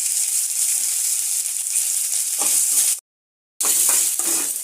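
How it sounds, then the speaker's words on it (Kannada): Ingredients fry in about a teaspoon of oil in a pan for a village-style chicken sambar, giving a loud, continuous bright sizzle with a brief silent gap and faint stirring clinks. "ಈ ಥರ ಫ್ರೈ ಆಗ್ತಾ ಇರುತ್ತೆ."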